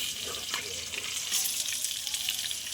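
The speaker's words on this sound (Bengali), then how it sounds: "এঁচোড়গুলো আমি ভেজে নিচ্ছি" Boiled jackfruit pieces fry in hot oil for a vegetarian jackfruit biryani, giving a dense, steady crackling sizzle at close range throughout, with no voices.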